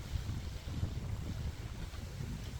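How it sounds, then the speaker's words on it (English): Strong wind blows outdoors in a garden where a Hollywood juniper bonsai is being wired, a continuous low rushing and buffeting roar against the microphone with no voices. "Got really windy"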